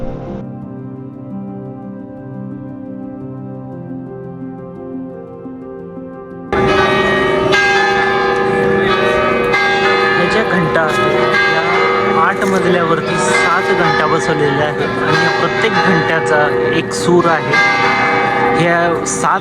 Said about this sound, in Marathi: सुरामध्ये हे घंटा वाजतात